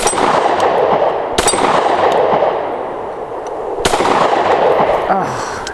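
Shots from a Stoeger STR-9C pistol crack sharply on an outdoor range, two loud reports spaced a few seconds apart over a background of wind and distant rumble.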